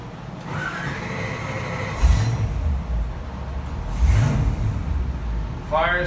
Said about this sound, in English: Fires right up, purrs like a kitten.